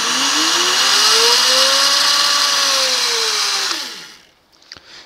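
A power drill spins a DIY wind turbine generator, whirring loudly and steadily, its pitch climbing then easing back before the motor winds down and stops.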